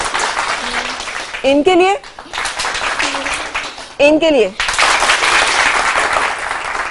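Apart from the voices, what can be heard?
studio audience applauding to vote for a recipe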